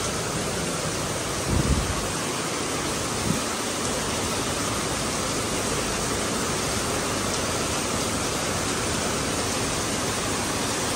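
Heavy rain pours at Sentosa in Singapore, a dense, loud, unbroken hiss that fills the whole stretch, with a couple of brief low thumps early on.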